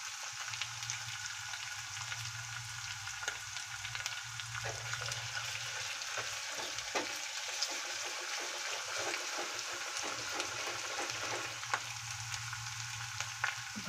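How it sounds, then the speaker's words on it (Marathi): Masala for palak paneer fries in hot oil, giving a steady, even sizzle and crackle up close, quiet but continuous, with faint stirring now and then. "मसाला चांगला तेलात फ्राय करून घ्यायचा."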